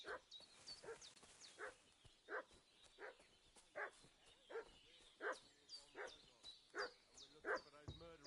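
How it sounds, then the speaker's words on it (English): A dog in the video game Kingdom Come Deliverance barks again and again in regular, fairly distant yaps over faint ambient background, with no speech. "What's that dog making such a fuss about?"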